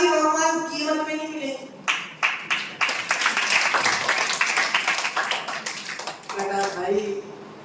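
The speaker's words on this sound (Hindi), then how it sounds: "भाई तुमने पहले ताली बजाई" An audience claps and applauds in a hall during a Jain religious discourse on the Bhaktamar Stotra, a dense, steady burst of many hands lasting several seconds, framed by someone speaking before and after.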